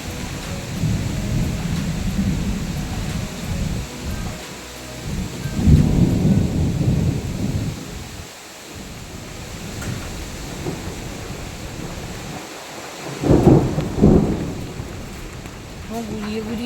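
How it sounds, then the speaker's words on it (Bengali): A Kalbaishakhi thunderstorm at eight in the morning: steady rain patters on surfaces while deep rolls of thunder swell and fade, with a loud nearby crack near the end. "দেখো এখন বাজে সময় সকাল 8টা, কিন্তু কীভাবে কালবৈশাখী ঝড় উঠেছে"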